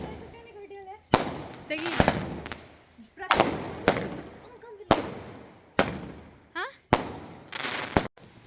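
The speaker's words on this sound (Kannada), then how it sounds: "ಮಳೆಯಲ್ಲೂ ಪಟಾಕಿ ಹೊಡಿತಿದ್ದೀವಿ ನೋಡಿ ನಾವು" Diwali firecrackers burst in the rain in London. About seven sharp, loud bangs come at uneven intervals, with a few whistling tones and voices chatting between the blasts.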